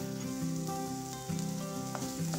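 Mint chutney mixture sautéing in oil, heard as a continuous dense sizzle with a low, humming tone underneath; no voices.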